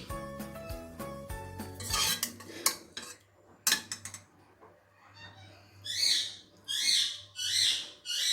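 Bitter gourd and onion curry being dished out with metal utensils: a quick run of ringing clinks and scrapes against a pot, then scattered taps, followed by several breathy, rhythmic whooshing sounds.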